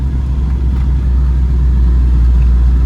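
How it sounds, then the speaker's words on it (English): A manual BMW E36 with about 75,000 miles and an exhaust leak runs at an auction, its engine a loud, steady low rumble with a raspy exhaust note and no talking. "Definitely has an exhaust leak or something."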